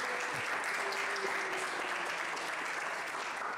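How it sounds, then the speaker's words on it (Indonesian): A classroom audience applauds a student, a continuous even patter of many hands clapping at moderate volume, beginning already underway and fading only slightly at the end. "tepuk tangan untuk Zikri"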